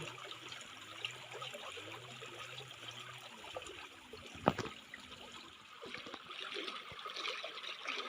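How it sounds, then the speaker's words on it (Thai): Water trickles and flows steadily into a fish pond outdoors, a close, continuous babbling stream with a faint low hum early on and one brief sharp splash partway through. "เสียงน้ำไหล"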